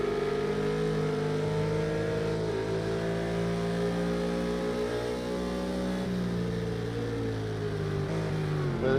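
McLaren 650S GT3 race car engine in a sim racing game at Mount Panorama Bathurst, a steady loud onboard drone holding high revs with slight pitch shifts and a brief dip near the end.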